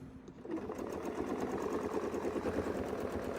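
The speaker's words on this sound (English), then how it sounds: "I can sew the next oval" Sewing machine stitching an oval around a quilting template during free-motion work, steady rapid needle chatter and motor hum starting up and running continuously, close and quiet, without speech.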